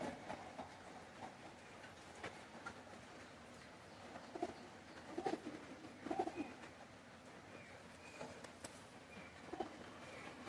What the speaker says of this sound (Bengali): মাস্টার ব্লাড লাইনের কবুতর।